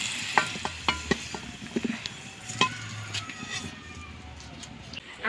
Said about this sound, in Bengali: এই যে আলুগুলো আমার ভাজা হয়ে গেছে, আমি এগুলোকে এবারে তুলে নিচ্ছি।